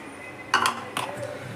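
Mango pulp is mixed into a bowl for mango mastani, with a spoon giving two short, close clinks and scrapes against the bowl over a quiet room background.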